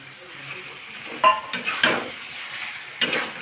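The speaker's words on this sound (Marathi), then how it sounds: "आता टाकायचं भाजलेले वांगे" Roasted eggplant tipped into a pan of cooked onion greens and stirred for Khandeshi bharit, with soft sizzling and several scraping, clinking strokes of a spoon against the pan, close by.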